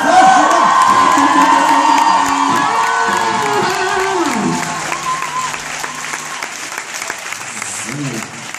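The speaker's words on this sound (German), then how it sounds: "Wahnsinn! Ja, Applaus!" A concert audience at a rock show in Mannheim gives loud applause with cheering and whoops, strongest at first and then thinning out, with a voice coming through as the clapping fades.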